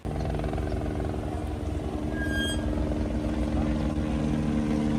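A rescue helicopter drones steadily overhead during Guadalupe River flood rescues in Texas, a loud, continuous rotor and engine hum with a thick low rumble that holds level throughout.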